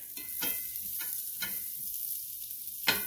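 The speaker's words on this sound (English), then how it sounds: "So I want to get this butter melted. And I have my heat on a medium heat." Butter melting in a pan over medium heat, a steady close sizzle with a few soft scraping stirs at regular intervals and one louder scrape at the end, no voices.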